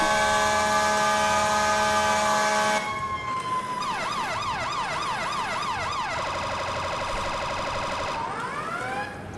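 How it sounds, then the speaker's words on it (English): An electronic emergency vehicle siren in the game EmergeNYC cycles through patterns: a steady horn blast, then a rapid warbling yelp, a fast pulsing priority tone, and finally a rising wail. "Some other siren options are the automatic sirens, wail, yelp, and priority."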